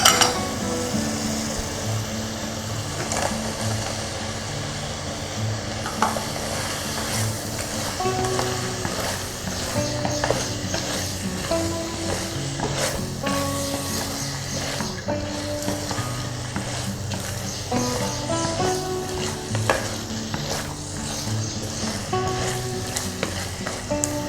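Chopped vegetables going into a hot pot for vegetable biryani, with steady sizzling and frying, occasional metallic clinks of a spoon against the pan and stirring scrapes throughout, close and continuous.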